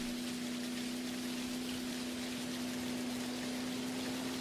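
Steady rain in the video game Mangrove Isle, a continuous even hiss of falling water with a constant low hum beneath it, unbroken and moderately quiet throughout.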